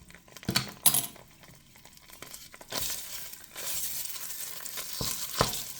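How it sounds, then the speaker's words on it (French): Tomato paste sizzles in vegetable oil in a saucepan, with a few spoon clinks and stirring scrapes at first, then a steady, moderate sizzle that keeps going to the end. "on va laisser tout ça mijoter"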